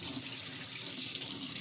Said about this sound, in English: we rinse ours off really good.